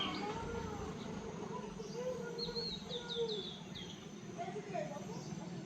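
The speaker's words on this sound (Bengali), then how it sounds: "বহু ধরনের পাখির আওয়াজ পাবে।" Several kinds of birds calling in a forest near Lataguri by Gorumara, rapid high chirps and whistled notes over a muffled background with faint distant voices.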